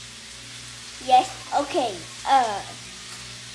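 Mushroom chicken sizzling in a pan gives a soft, steady frying hiss that runs throughout, while a person speaks a few brief words over it.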